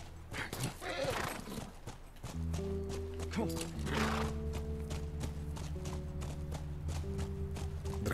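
Horse hooves clip-clop in The Last of Us video game, steady hoofbeats with an occasional whinny under game music and two players talking throughout.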